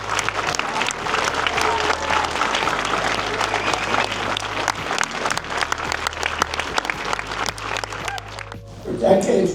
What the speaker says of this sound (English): Please stand up and give him the applause and the thank you he deserves.